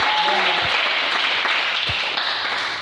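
Congregation applauding inside a church, a broad, steady wash of clapping hands filling the space throughout, with a few louder individual claps standing out near and far.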